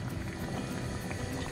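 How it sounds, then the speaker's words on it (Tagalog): A pot of Spanish sardines boiling steadily over high heat, a dense bubbling rumble that stays even and close throughout with no voices. "kumukulo na po."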